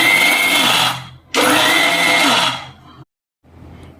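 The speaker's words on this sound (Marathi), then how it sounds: "आता ही चटणी एकदम बारीक वाटायची नाही, त्यामुळे मिक्सर उघड झाप करून घ्यायचा आहे." A mixer grinder coarsely grinds roasted sesame chutney in loud, harsh whirring bursts, stopping and restarting in short pulses, with a brief pause before a final quieter burst.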